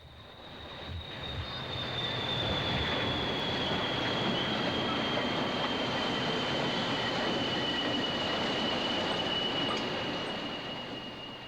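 Class 40 diesel locomotive 40099 shunting ballast at Guide Bridge, a loud sustained engine roar that swells in and fades out, with a thin high whine running throughout.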